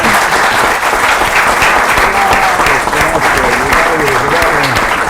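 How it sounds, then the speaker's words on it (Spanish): Studio audience applause on a television program about criminology, steady and loud dense clapping throughout, with talk faintly mixed underneath. "vamos a darles un gran aplauso hoy"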